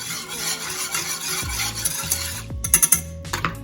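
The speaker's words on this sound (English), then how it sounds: "I'm gonna give this a little whisk so that my brown sugar dissolves" A whisk swirls brown sugar into cranberry juice for poaching pears, making soft close scraping and sloshing strokes, with a few light clinks against the bowl toward the end.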